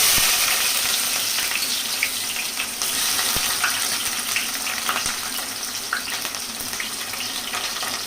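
Chopped onions frying in hot oil for a prawn curry give off a loud, steady, hissing sizzle with small crackles throughout.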